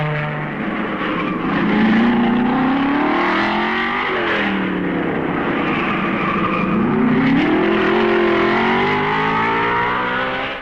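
Engines of 1955 Formula One racing cars at the Belgian Grand Prix roar past in a loud, continuous drone. Several cars overlap with rising and falling pitch as they accelerate and sweep by. There is no talk.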